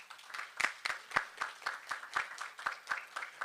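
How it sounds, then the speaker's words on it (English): A small audience at a leadership symposium applauds its panel, rhythmic claps coming at a steady pace with a brighter clap standing out every so often, fairly faint and heard from a distance. "I invite you now to give a round of applause to our panel."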